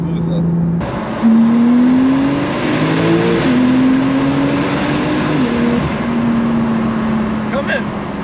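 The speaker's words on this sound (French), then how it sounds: "tu as vu comme t'entends le turbo qui fait" A supercar's turbocharged engine spools and revs, a steady rising and falling drone with shifting pitch that lasts the whole stretch while people talk over it inside the car.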